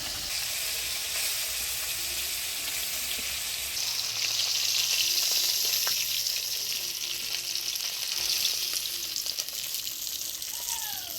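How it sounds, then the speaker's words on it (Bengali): Koi fish lightly frying in hot oil, a continuous bright sizzle that swells louder partway through, with faint stirring and no talk. "কই মাছটা কিন্তু কড়া করে ভাজবো না হালকা এপিট এপিট করে ভাজে তুলে নেব"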